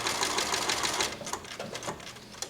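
Sewing machine running a straight stitch for an embroidered library quilt, a fast, close mechanical chatter of needle strokes that runs steadily, then breaks into a few shorter bursts.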